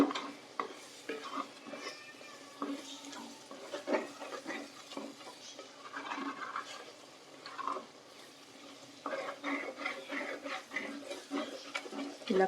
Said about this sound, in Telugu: కలుపుకుంటూ అయితే ఫ్రై చేయండి అడుగు పట్టకుండా ఉంటుంది